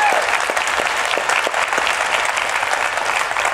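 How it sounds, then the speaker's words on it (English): A conference audience at DEF CON 20 breaks into a sustained round of applause, dense and steady throughout with no talk over it. "Let's give her a big round of applause for what she's done."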